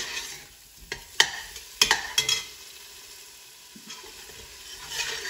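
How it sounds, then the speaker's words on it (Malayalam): Chopped tomato with ginger and green chilli is sautéed in a pan, with a soft steady sizzle broken by several sharp scrapes and knocks of a spoon stirring against the pan. "ഇടയ്ക്ക് വഴറ്റി കൊടുത്തുകൊണ്ടിരിക്കണം, ഇഞ്ചിയും പച്ചമുളകൊക്കെ ചേർത്തുകൊണ്ട് തന്നെ, അല്ലെങ്കിൽ അടി പിടിക്കും"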